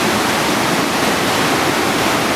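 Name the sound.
river flowing past a dam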